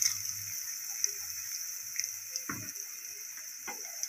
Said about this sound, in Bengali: এটাকে ভালোভাবে আমি নাড়াচাড়া করে নেব